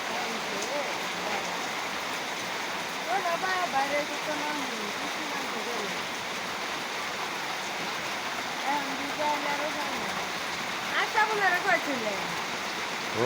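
Steady rain falls outside a rural home, a continuous broadband hiss with drops pattering, while melodic singing or music rises over it in several passages.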